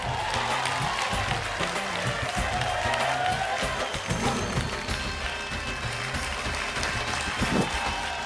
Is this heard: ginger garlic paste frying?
no